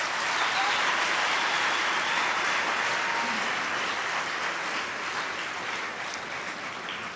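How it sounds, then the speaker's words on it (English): An audience at a TVET college event applauds steadily throughout, a dense wash of clapping that fades slightly toward the end. "Let's give them a round of applause."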